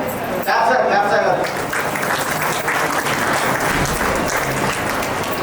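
Guests at a retirement function in Khammam applaud, a loud, steady round of clapping that runs throughout, with voices talking over it.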